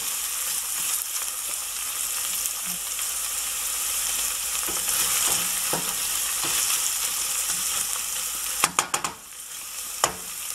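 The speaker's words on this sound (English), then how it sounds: "Let's wait until this onions get to the golden brown color." Onions fry in a pan for paya soup, a loud, steady sizzle that runs throughout, with a few sharp clanks of stirring near the end.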